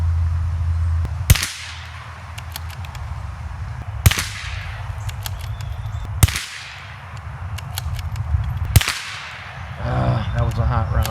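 CZ457 MTR rimfire rifle shots at an outdoor range, four sharp cracks spaced a couple of seconds apart with low wind rumble between them.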